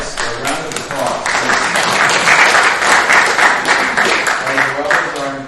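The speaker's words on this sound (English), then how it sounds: "A round of applause." A room full of people claps steadily for several seconds at a poetry salon in a church, a dense, bright wash of applause that swells and holds before thinning out.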